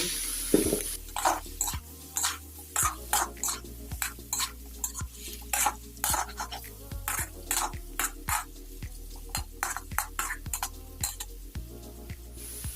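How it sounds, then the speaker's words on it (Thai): Pork stir-fried with egg and luffa in a pan brings a low sizzle broken by repeated rhythmic spatula scrapes and clinks against the metal, close and fairly loud, with no one speaking. "เราก็ เอาหมูลงผัดไปพร้อมกันเลยนะคะ"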